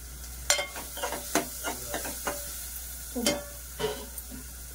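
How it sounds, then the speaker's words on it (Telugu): Crab curry (peethala iguru) frying and being stirred in a pan, with a steady soft sizzle under repeated scraping stirs, close and fairly loud, no talking. "ఇంకొద్దిగా ఫ్రై అవ్వాలండి"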